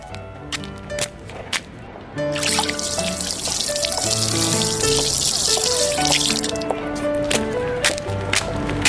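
Water runs from a tap and pours into a container for a kitten to drink, a loud continuous splashing stream that follows a few quieter clinks and handling sounds.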